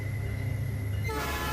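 A train roars past in footage playing on a screen, a dense steady rumble with a sustained horn tone that shifts abruptly near the end. No voices are heard.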